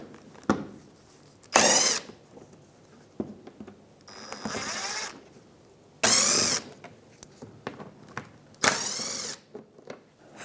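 A power tool spins out three 8mm bolts from the inner fender liner of a 2007 Mazda CX-9, close, loud whirring bursts of one to two seconds separated by short pauses and small clicks.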